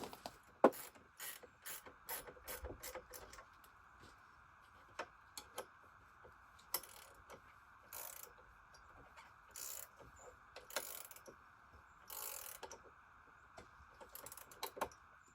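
Bolts on an Alaskan chainsaw mill are tightened with a ratcheting tool, giving faint, scattered clicks and short bursts of ratcheting spaced irregularly in a quiet setting, with no voices.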